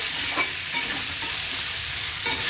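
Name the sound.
sautéing fig and prawn curry with salt and turmeric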